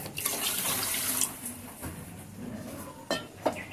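Two bowls of water poured onto sugar in a pot for syrup, a running splash with a few clinks of bowl against pot, close and fairly quiet, no talk.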